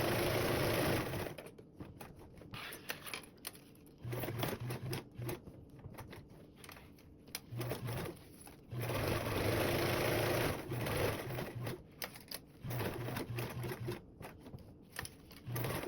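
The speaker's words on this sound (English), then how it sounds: "sew around the perimeter with a 1/8 seam allowance" A sewing machine stitches around the perimeter of a duffle bag gusset at a 1/8 inch seam allowance, running in several steady bursts with short pauses between them, fairly quiet and close, with no talking.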